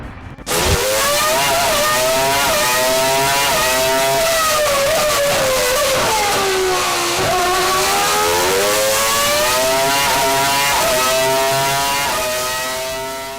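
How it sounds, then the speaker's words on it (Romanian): A 2005 Renault Formula 1 car's 900 hp V10 at Goodwood screams loud and close, its high-pitched wail rising and falling through repeated revs and gear changes for the whole stretch. "motorul său V10 de 900 de cai putere va răsuna din nou ca în anii de glorie ai"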